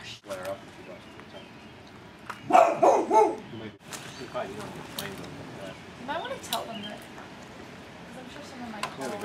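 A dog barks a short burst of several loud close barks amid a noisy indoor scene, with people talking around it before and after.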